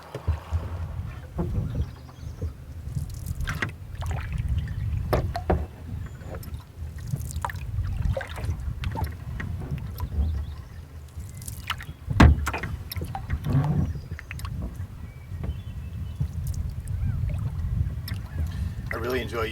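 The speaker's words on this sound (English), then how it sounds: "This is a Bending Branches beaver tail paddle that I like to use on evenings like this" A single-blade Bending Branches beaver tail paddle works a canoe on a calm Maine evening on trout water, giving soft repeated water swishes and drips over a low steady rumble of wind, with one louder splash midway.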